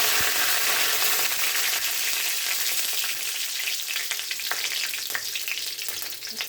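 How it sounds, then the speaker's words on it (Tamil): Curry leaves crackle and sizzle loudly in hot oil while a Tamil sundal kuzhambu is cooked, a dense continuous frying hiss with sharp pops and occasional stirring scrapes, close up and with no talking. "கருவேப்பிலை"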